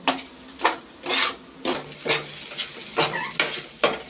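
Boiled dal is stirred in a pan to dry it out for dal puri, with repeated rasping scrapes of the spatula in a steady rhythm over a soft sizzle, close up and with no talking.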